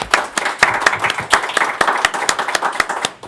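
Audience members at an El Monte community show clap in a thin round, separate sharp claps from a small group heard close and distinct rather than merging into a roar.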